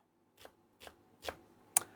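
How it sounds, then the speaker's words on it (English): A knife slicing a shallot on a board in a home kitchen, four soft, separate cuts about half a second apart, faint and close. "I've got a shallot and I'm just going to slice that up"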